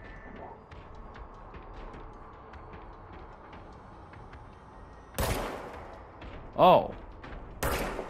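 Gunfire in the video game Control, a quiet low rumble broken by a few sharp loud shots late on, one followed by a ringing burst; a man gives a brief exclamation.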